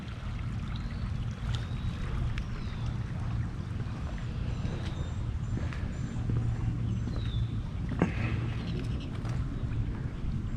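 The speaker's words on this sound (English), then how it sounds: "I love that sound of water" Water flowing gently down the Milwaukee River in West Bend, Wisconsin, a steady broadband wash of moderate level continuing throughout, with faint bird chirps above and occasional light knocks.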